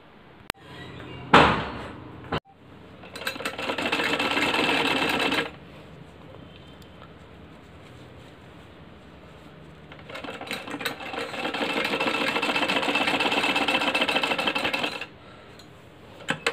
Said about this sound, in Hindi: दोनों के कट मिला करके सेंटर में एक सिलाई लगाएंगे।